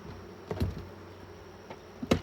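Bees at a beehive hum faintly during frame work, with a few soft taps and knocks from the hive box standing out over the quiet, low buzzing.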